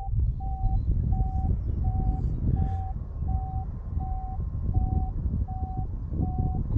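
A paragliding variometer climbing in weak thermal lift gives a regular series of short, evenly spaced beeps, about one every half second. They sit over a loud, steady rush of airflow and wind.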